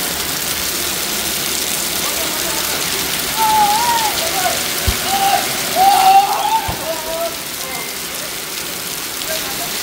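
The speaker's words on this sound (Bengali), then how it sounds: "কি জোরে বৃষ্টি নামছে।" Heavy rain pours down on a morning during a wedding, producing a constant dense hiss, with some indistinct voices rising faintly in the background partway through.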